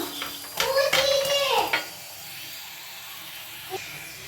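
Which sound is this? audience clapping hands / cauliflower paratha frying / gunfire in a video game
cauliflower paratha frying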